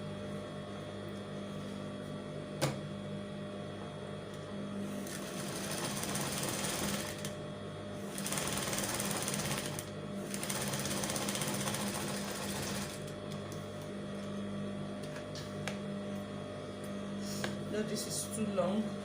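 A sewing machine stitches fabric for a standing bow in three faint, rapid buzzing runs of a few seconds each, separated by quieter handling and background hum.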